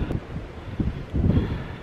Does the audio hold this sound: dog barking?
no